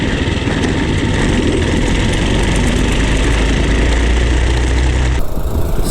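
Small engine of a gas mini bike running on a 60% race fuel and diesel mix, a steady loud idling drone with rough low rumble and vibration that cuts off abruptly near the end.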